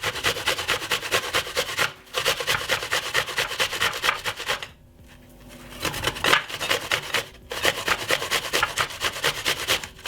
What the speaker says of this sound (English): I got the apple which I'm also gonna grate up.